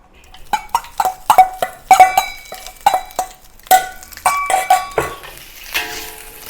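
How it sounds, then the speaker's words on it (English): Rice stir-fried with oil in a metal wok gives a close, loud run of irregular clanks and scrapes as a utensil strikes the pan, with only a faint sizzle underneath. "Now I'm going to fry the rice with some oil."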